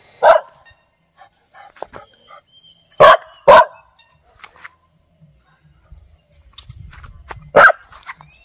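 A dog barks in sharp, separate bursts, one early, two close together in the middle and another near the end, ringing out loud and close against a quiet outdoor background.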